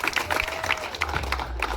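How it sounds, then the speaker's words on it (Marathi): Audience clapping at a cricket league trophy unveiling ceremony, a brief spell of scattered applause in a crowd with a low murmur beneath. "याच्यासाठी टाळ्या वाजल्या पाहिजे."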